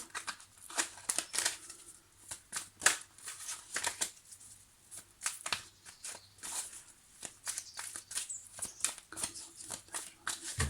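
Tarot cards are shuffled for a reading in quick, papery riffles and flicks. The soft, close rustling bursts repeat steadily throughout, with no voice.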